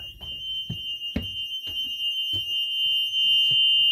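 RV black and gray holding tank level alarms sound together as both tanks reach full, a high steady electronic beeping tone with faint clatter and thumps underneath.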